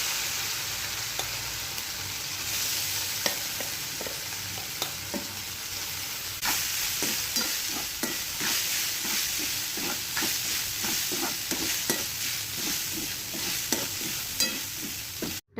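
Poha frying in a pan with chillies and peanuts hisses steadily while a spoon scrapes and taps in repeated stirring strokes, close and clear throughout.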